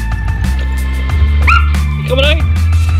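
A small dog whimpers and yips with high, rising whines over a loud, steady low hum indoors, its cries coming in short bursts.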